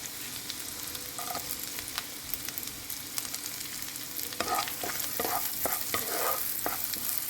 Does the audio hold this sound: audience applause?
no